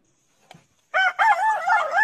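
A rooster crows once, close and loud, its wavering call following a small tap.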